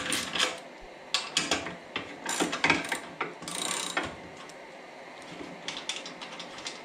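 Half-inch ratchet loosening exhaust bolts on a Harley-Davidson Street Glide, giving bursts of close, fast metallic clicking separated by short pauses.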